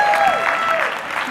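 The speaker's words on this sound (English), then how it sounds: "big round of applause for the couch crew" Brief burst of crowd applause, steady clapping from many hands, moderately loud and fading slightly at the end.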